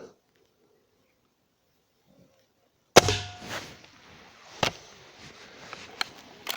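Near silence, then a sharp loud pop followed by a rattling tail, with two more short snapping shots spaced a second or so apart, from a Hatsan Striker Edge air rifle.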